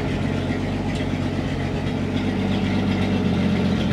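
An International 1200A pickup truck engine runs steadily at a low idle-like rumble while the clutch is let out in first gear, a continuous close drone with no voices.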